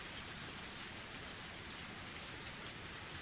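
Torrential rain pours in the Higurashi When They Cry Hou game, a dense, steady hiss of heavy downpour without pauses or voices.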